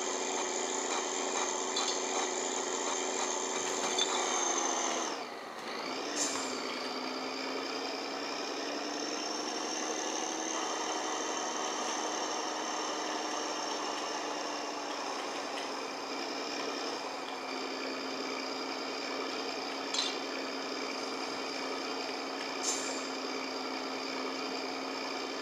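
A truck engine in My Summer Car runs steadily in low gear, a sustained droning hum with layered tones and a brief dip in pitch early on, continuing alone at a constant level.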